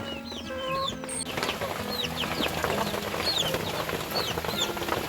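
Several chickens cluck and murmur nearby in a sawdust-lined poultry coop, with scattered higher bird chirps over a steady background hum.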